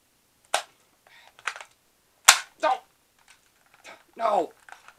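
Pistol in Fallout New Vegas firing and jamming, a few sharp cracks and clicks spaced irregularly, close and distinct between brief bursts of mechanical rattling.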